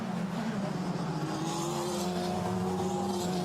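Formula Renault Eurocup race cars at Imola accelerating hard out of a curve, a loud, steady engine drone with rising pitch that fills the whole stretch without pause.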